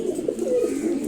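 Domestic pigeons, including a blue bar male, coo steadily at close range, low throaty rolling calls overlapping in a continuous murmur with no talking.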